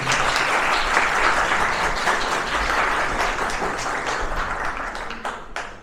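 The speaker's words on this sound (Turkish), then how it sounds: "Alkışlarınız." Sustained applause from a large concert audience, dense and steady clapping that fades slightly toward the end, with no voices over it.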